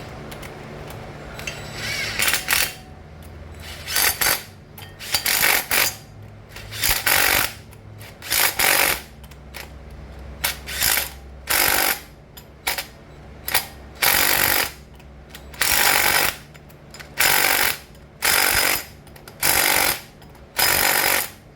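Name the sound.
electric impact wrench driving flywheel bolts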